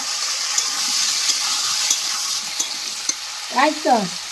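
Fish fries in a pan with a steady, loud, close sizzle that carries through the whole stretch, broken by a few small pops and stirring clicks, while a voice speaks briefly near the end.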